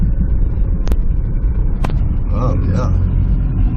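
A car bought from an insurance auto auction idles with a steady low engine rumble while it is held in gear, with a couple of sharp clicks and people talking over it.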